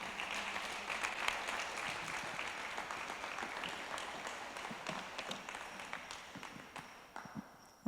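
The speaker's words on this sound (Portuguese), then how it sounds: "Mais uma salva de palmas para Jesus" Worshippers at a Thursday-night Portuguese-language church service applauding, a continuous rattle of many hands that is moderately quiet and tapers off near the end before a sharp sound at the close.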